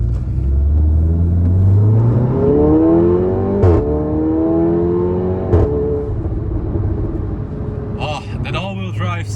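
A VW Golf 7.5 R with an Akrapovic exhaust accelerates hard, a loud rising engine roar climbing through gears with brief shift breaks, heard from inside the car as a person talks over it.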